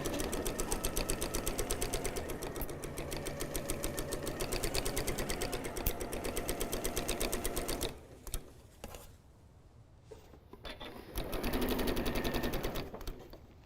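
A sewing machine stitches a fabric napkin in a fast, steady mechanical chatter for several seconds, then pauses with faint handling noises before a short second burst of stitching.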